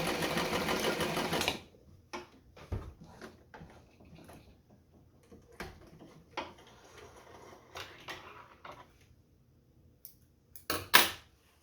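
A Singer 237 Fashionmate sewing machine stitches free-motion with its feed dropped, first in a steady loud whirring run, then falling to scattered short bursts of stitching and light mechanical clicks and knocks.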